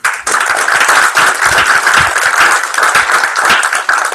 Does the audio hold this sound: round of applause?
yes